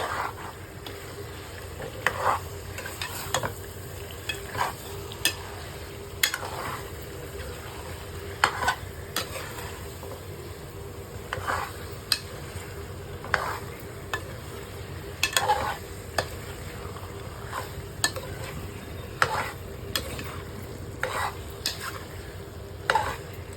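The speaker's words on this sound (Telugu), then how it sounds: "చికెన్ వేసుకొని బాగా దిగి కలుపుకోవాలి." Chicken for curry is stirred in a frying pot, giving repeated scraping and clinking strokes over a steady sizzle for a long stretch, with no talking.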